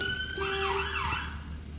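A fire engine's siren wails past a primary school in Scotland, a rising and falling tone heard at moderate distance over a low traffic hum for under two seconds.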